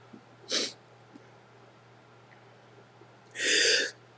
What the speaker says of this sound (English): Oh, Lord, I'm going to sneeze, y'all.